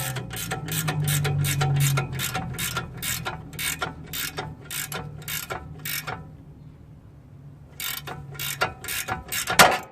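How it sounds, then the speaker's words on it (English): A rapid series of sharp ratcheting clicks from a gear wrench tightening a ball joint press on a 1999 Toyota Tacoma, stopping briefly before resuming, with a low mechanical hum beneath; close and fairly loud, no talking. "I'm using a gear wrench to make it easy. So we'll just go ahead and tighten that."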